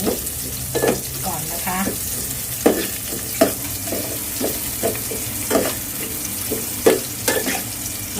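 Garlic and shallots frying with pork loin for an old-style Thai curry, a steady close sizzle broken by sharp, regular spatula knocks and stirring scrapes against the pan.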